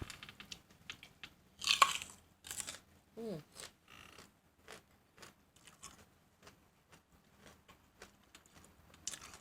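Crunchy bites into sweet jujube fruit, a few crisp cracks spaced among quieter chewing and soft rustles, close and fairly faint.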